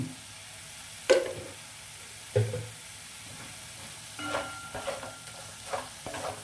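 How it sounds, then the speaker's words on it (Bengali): Masala spices sauté in a pan for a prawn and pointed gourd curry, a soft constant sizzle broken by a few distinct spatula knocks and scrapes against the pan, with no talking. "মশলা প্রায় কষানো হয়ে গেছে"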